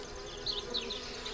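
Honeybees drone and buzz around an opened top bar hive during an inspection, a close, continuous hum with individual bees whizzing past at higher pitch.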